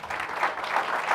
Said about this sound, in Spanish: Denle el aplauso a Cristo, gloria a Dios.